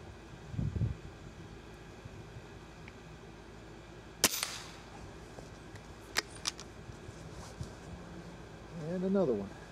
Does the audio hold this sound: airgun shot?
yes